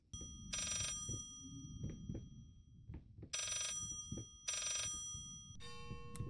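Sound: telephone ringing in video game Layers of Fear

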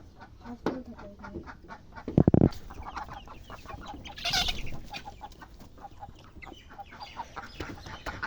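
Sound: ducks and fowl at a village home

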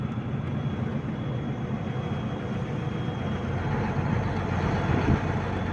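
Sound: tractor engine running

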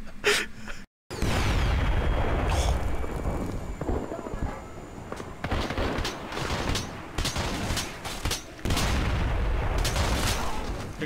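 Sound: explosion in Splinter Cell: Blacklist video game

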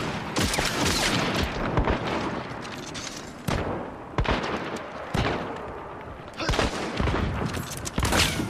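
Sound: gunshots in the video game Hunt: Showdown

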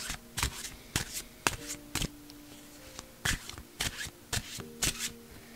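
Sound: shuffling a deck of grief oracle cards

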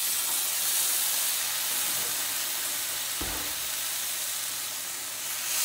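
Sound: salmon searing in a hot pan

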